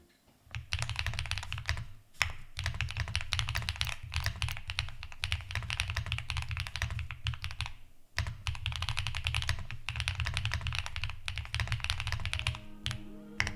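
Rapid, continuous typing on a pre-built 75-key wireless mechanical keyboard, crisp clacky keystrokes in quick bursts with two brief pauses, close and clear with no talking.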